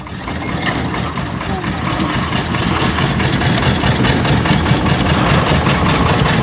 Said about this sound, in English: this is another locomotive powered by an Ailsa Craig 2-pot diesel engine